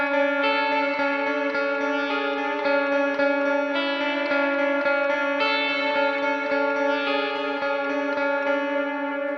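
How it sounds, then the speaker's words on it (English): A shimmering clean electric guitar tone from a pink clean amp in a software amp plugin rings out in sustained, chorus-like chords, bright and even, changing every second or so with no talk. "So I want to start with this awesome shimmering clean tone that sounds like..."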